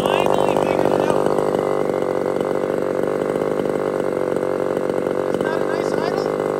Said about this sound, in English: the chainsaw, has been idling for an honest 4 or 5 minutes